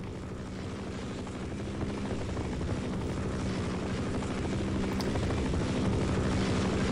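Steady, continuous helicopter rotor drone from Half-Life: Opposing Force, loud and close, with a low rhythmic chop that stays even throughout and no talking over it.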